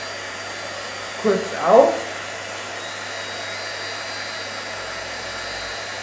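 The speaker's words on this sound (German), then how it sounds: "Wir föhnen das jetzt mit einem Embossingföhn" An embossing heat gun blows hot air over glitter in a steady, even whoosh with a faint high whine, close and constant throughout, with a short spoken remark near the start.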